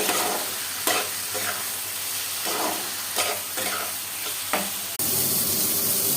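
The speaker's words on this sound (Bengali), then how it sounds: "আর আলুগুলো একটু ভেজে নিচ্ছি" Potatoes frying in a pan, a loud continuous close-up sizzle broken by repeated stirring scrapes, intensifying sharply toward the end.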